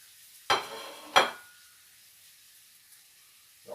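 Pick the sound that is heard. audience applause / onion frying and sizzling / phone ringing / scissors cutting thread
onion frying and sizzling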